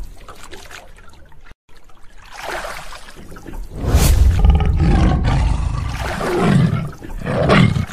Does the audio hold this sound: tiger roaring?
yes